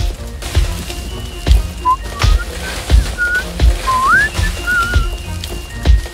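A melodic whistled tune with rising, wavering notes, heard over steady dull thumps and light background patter.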